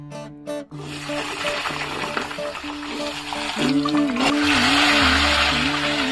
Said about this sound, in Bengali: পেঁয়াজ দিয়েছি, কাঁচা লঙ্কা দিয়েছি, গাজর দিয়েছি, এগুলোকে একটু ভেজে নেব।